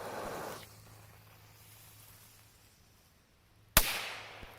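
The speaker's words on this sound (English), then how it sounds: "They just threw a firecracker in on us." A firecracker thrown at reporters bursts with a single sharp, loud crack after a long stretch of quiet, followed by a short decaying hiss and a faint trailing pop.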